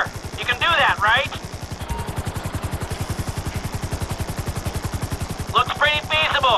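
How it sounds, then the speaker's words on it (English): A helicopter hovering in Grand Theft Auto V, its rotor thumping in a fast, steady loud pulse throughout, with a radio-style voice talking over it at the start and end. "Just hold the chopper here."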